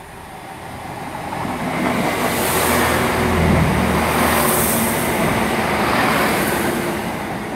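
A Class 166 Turbo diesel train runs through Worle station on an empty stock move, a steady, loud rumble that swells to a peak midway and then eases slightly as it passes.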